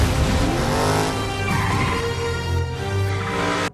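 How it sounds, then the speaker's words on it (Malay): A car roars out through the nose of a crashed, exploding plane in a film scene, a loud continuous engine drone with tire noise and heavy rumbling effects, no voices. "Dom memandu salah satu kereta yang tertinggal lalu keluar melalui hidung"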